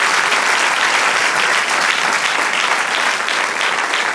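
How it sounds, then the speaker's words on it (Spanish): A church congregation applauds during a Spanish-language sermon, a dense, steady wash of clapping that stays loud and even for about four seconds with no voices over it. "Denle otro aplauso al Señor."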